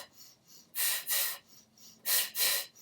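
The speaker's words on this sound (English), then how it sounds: "Good panting." A voice student pants through a breathing exercise, with quick paired breaths, softer pants first and then two louder rushing double breaths, close to the microphone with no talking.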